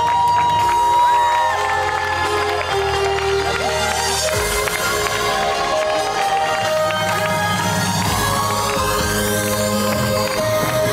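Loud, steady applause and cheering from wedding guests greeting the arrival of a tiered wedding cake, under festive music with whoops and shouts throughout.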